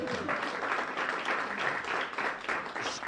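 Steady applause from an audience at a speech by Illinois Governor J.B. Pritzker fills the room, many hands clapping together at an even level throughout.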